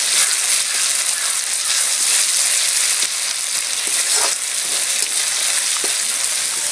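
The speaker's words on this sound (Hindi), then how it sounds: "तो गरम मसाला डालकर इसे भी हम अच्छे तरीके से भून लेंगे।" Ground garam masala and spices frying in a pan for a bean curry, with a loud, continuous sizzle throughout and a few faint stirring scrapes, no voices.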